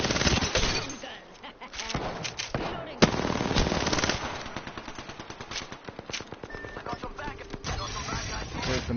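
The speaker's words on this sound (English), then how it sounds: "Use that minigun." Rapid minigun fire in the battle royale game Apex Legends, a dense rattling stream of shots over game effects, with a sharp crack partway through.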